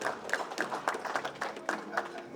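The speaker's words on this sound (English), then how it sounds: "Round of applause for that." Scattered, moderate applause from a Lions Club audience at an address, individual claps audible in an uneven rhythm, fairly quiet and brief.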